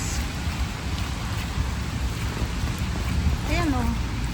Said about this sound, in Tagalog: Bagsak yung ulan eh. Saglit lang pero ang lakas.